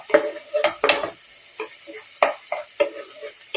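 Okra fries in a pan while being stirred, giving a soft sizzle under a handful of sharp scraping and clinking strokes of a spoon against the pan, close by.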